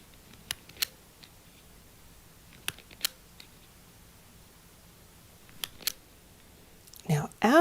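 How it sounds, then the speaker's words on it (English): A small button on top of a toy camera clicks several times, sharp isolated clicks spaced over a quiet background, with a brief louder rustle at the end. "Now the picture changes in the camera when I click a little button on the top."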